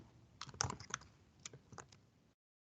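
Typing on a computer keyboard: a short, quiet burst of a dozen or so key clicks in an uneven rhythm, close by and alone, ending abruptly.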